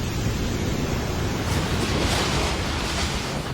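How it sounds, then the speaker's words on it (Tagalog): Strong typhoon waves pound a resort on the Aurora coast during Typhoon Pepito, a dense, loud roar of surf and wind with no break. "Sa Aurora hinampas ng malalakas na alon ang isang resort sa Dipakulaw."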